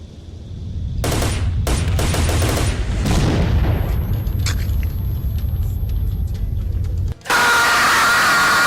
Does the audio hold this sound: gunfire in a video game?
yes